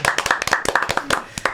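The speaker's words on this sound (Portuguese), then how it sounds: "uma salva de palmas" An audience gives a short burst of rapid, dense hand clapping to welcome a guest at a talk on public food purchasing from family farming, loud and close with no voices.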